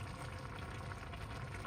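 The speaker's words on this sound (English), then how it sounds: "I'll add in even a little bit more boiling water and just leave it cook." Rice simmers in boiling water in a pot, giving a quiet, continuous bubbling hiss with a low, rumbling undertone that holds steady, with no talk.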